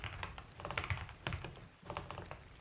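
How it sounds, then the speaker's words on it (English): Rapid, uneven clatter of keys on a computer keyboard, typed close by in a quiet room with no voices. "I cannot type today."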